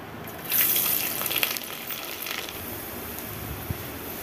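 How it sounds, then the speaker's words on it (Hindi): Garlic dropped into hot oil with a bay leaf for an arhar daal tadka gives a sudden loud sizzling burst that settles into a steady, softer hiss, with no talking. "ये लहसुन डाल देती हूँ"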